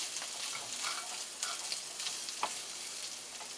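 Sausage fries in a cast iron pan as a plastic fork stirs it, giving a close, steady sizzle with light scraping strokes throughout.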